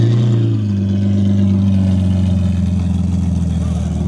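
A BimmerWorld race car engine at SIGFest with its exhaust mufflers closed drones loudly and steadily close by, its low, even note drifting only slightly, with no sharp revs.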